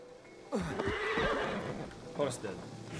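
Horse in the Assassin's Creed Valhalla video game gives a loud, close neigh followed by a second shorter whinny, with game sounds and a voice running underneath.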